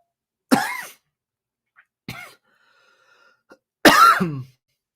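Three coughs in quiet surroundings: a sharp one, a softer short one, then a louder, rougher cough, each separated by silence.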